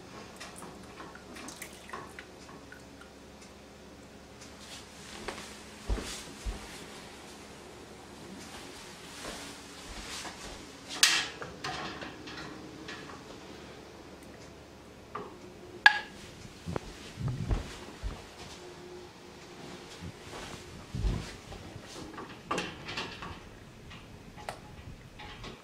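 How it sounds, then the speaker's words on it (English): Home-canning jars with snap lids pop sporadically as they seal, giving scattered sharp clicks of varying loudness against a quiet kitchen background, with faint water drips and small clatters between them. "if you heard that pop is the snap lid sealing, so that's a really, really good sound to have"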